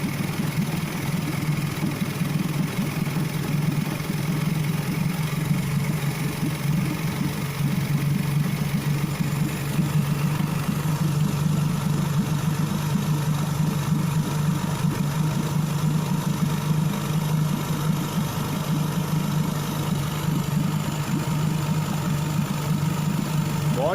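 A freshly rebuilt outboard motor idles just after starting, a steady low throbbing hum running unbroken and fairly close for the whole stretch.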